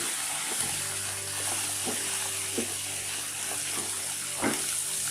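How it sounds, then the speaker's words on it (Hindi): Green chillies frying in a pan for hari mirch ka salan, a steady hissing sizzle with periodic soft stirring scrapes and faint tonal hum in the background, no voices. "सब्ज़ मिर्चों को हमने फ्राई करना है"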